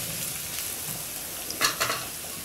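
Chopped onions and green chilies fry in a pan with a soft, steady sizzle that stays in the background. A couple of brief scraping stir sounds come near the end.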